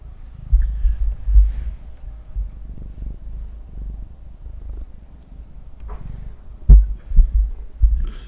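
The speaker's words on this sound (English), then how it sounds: "She's purring like crazy." A cat purrs close to the microphone, a low, pulsing rumble with irregular thumps and occasional faint rustles.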